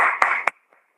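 Applause for three senior colleagues during an online Zoom program, a short burst of clapping with a couple of sharp louder claps that cuts off abruptly into near silence.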